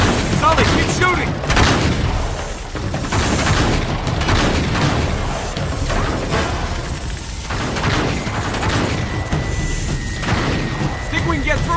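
Gunfire and heavy explosive booms from the video game Uncharted 3 ring out as a dense, continuous stream of shots, thuds and crashes, with a voice talking over the battle.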